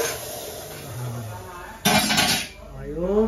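Pots and utensils clink and scrape in a home kitchen while pea and potato curry is tempered with garam masala, a brief louder burst of clatter midway, with a voice speaking over it.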